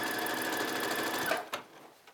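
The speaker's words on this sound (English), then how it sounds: "So I can really just take off right from here and start sewing my 5/8 of an inch seam allowance." A Brother Simplicity SB3129 computerized sewing machine stitches fabric along a 5/8-inch seam, giving a rapid, even mechanical whir that runs close and steady, then stops abruptly with a small clunk.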